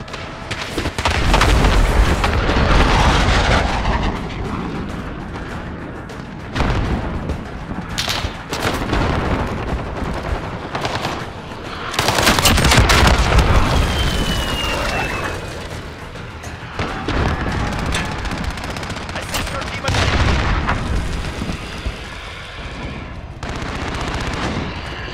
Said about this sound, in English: Corsman 3, we're taking fire!